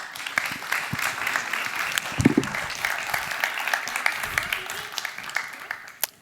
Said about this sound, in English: please give the panelists a warm applause